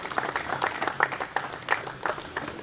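An audience at a cricket league opening ceremony in Goa claps throughout, a fairly quiet, continuous patter of many hands with a few sharper individual claps standing out.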